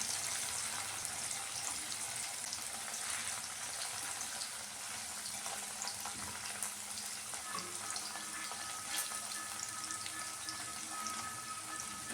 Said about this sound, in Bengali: কড়াইয়ে তেল দিয়ে দিয়েছি, পনিরটা ভেজে নেব।